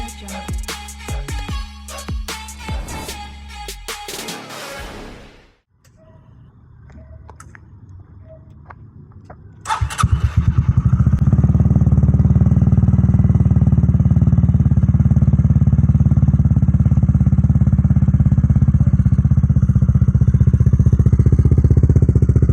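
An RT3 scooter on a ride north to Kedah clatters and revs with road noise at first, goes quiet, then starts up and settles into a loud, steady engine run close by.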